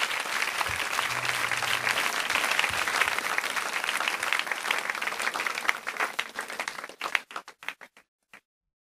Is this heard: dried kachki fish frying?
no